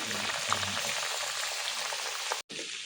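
Ginger garlic paste frying in hot oil for a Korameenu fish pickle, giving a steady dense sizzle throughout, with a brief dropout near the end and a faint voice early on.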